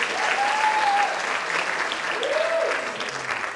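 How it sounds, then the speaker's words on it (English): Steady audience applause at an awards ceremony, a dense wash of clapping that holds for the whole stretch, with a couple of faint whistles or cheers rising through it. "let's give them another round of applause for uplifting."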